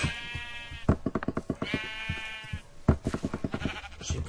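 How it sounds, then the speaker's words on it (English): Minecraft sheep bleat repeatedly in a game, several wavering calls with choppy game clicks and knocks between them, fairly loud and close. "Oh my god, it's some sheep!"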